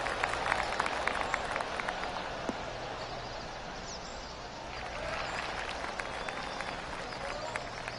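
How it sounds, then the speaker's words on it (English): Golf gallery applause in PGA Tour 2K25, a steady spread of crowd clapping heard under a commentator's voice at a moderate, even level throughout. "Oh, golf clap."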